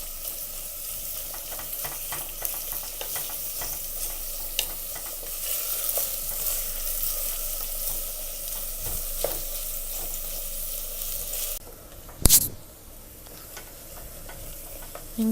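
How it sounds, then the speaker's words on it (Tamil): Onions sauté in a pan until golden brown for a mutton dum biryani, giving a steady close sizzle with faint stirring scrapes and one sharp clank near the end. "வெங்காயம் நல்லா பொன்னிறமாகிற வரைக்கும் வதக்கணும்."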